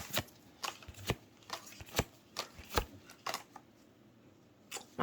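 Pokémon card booster pack from the Space Juggler set being torn open and handled, with a run of sharp crackly foil rips and card shuffles spread across the moment, close and crisp with no talking.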